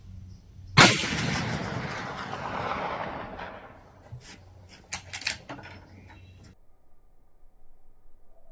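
One loud .450 Bushmaster rifle shot cracks sharply outdoors, followed by a long rolling echo that fades over several seconds, then a few faint clicks and small knocks.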